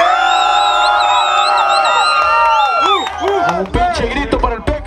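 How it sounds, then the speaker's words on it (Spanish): A crowd at a freestyle rap battle final shouts and cheers loudly and continuously, with sustained whoops and yells building into a rowdy roar. Someone speaks over the noise. "Un pinche grito para el del Peque."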